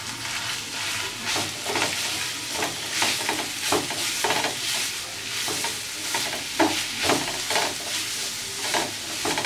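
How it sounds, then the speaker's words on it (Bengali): Grated carrot fries in ghee with a soft, continuous sizzle, broken by repeated scraping stirs at an irregular pace, fairly quiet and without talk. "গাজরটা দিয়ে আমি একটু ঘিয়ের মধ্যে ভেজে নেব প্রায় 5 মিনিটের মতো।"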